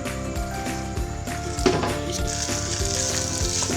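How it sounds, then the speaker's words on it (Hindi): Macaroni tipped into a frying pan with peas and chicken pieces, giving a steady close sizzle and frying hiss with a brief clatter of stirring about midway. "अब इसमें मैक्रोनी डाल रही हूँ।"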